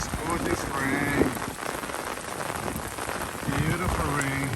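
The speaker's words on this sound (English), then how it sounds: "The rain's really pouring right now." Heavy rain pours steadily in Bolivar, Missouri, a dense continuous hiss of drops striking surfaces close by, while someone talks under an umbrella.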